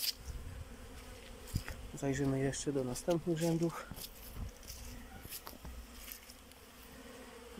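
Honeybees buzz around hives in an apiary on a December cleansing flight, a soft continuous hum with louder droning passes as bees fly close, while someone talks over it.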